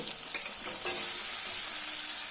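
Diced sweet pumpkin goes into a pan of frying potatoes for a Bengali dish, raising a loud, steady hiss of sizzling oil with a few clacks of stirring.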